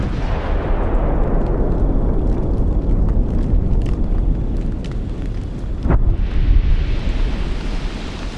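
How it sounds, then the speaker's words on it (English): A volcano in Indonesia erupts with a big first blast, a loud, close, continuous deep rumble full of crackling bursts and one sharp crack partway through. "The first eruption is a big one."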